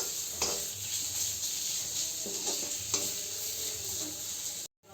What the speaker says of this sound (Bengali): এখন দিয়ে দেব টমেটো। লো স্টিমে রেখে টমেটোটাকে ফ্রাই করলে একটু সুন্দর গলে যায়।